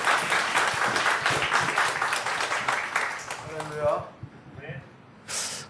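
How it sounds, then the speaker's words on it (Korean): Church congregation applauding to welcome the pastor at a Sunday service, a full burst of clapping that tapers off after about four seconds, followed by someone speaking briefly. "우리 이은호 목사님 나오실 때 박수로 맞이하겠습니다."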